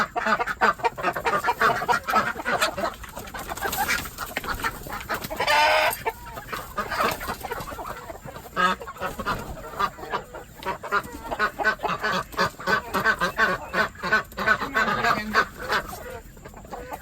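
Chickens cluck and squawk continuously while ducks quack among them inside a chicken house, a busy, close flock noise with overlapping calls and no talking.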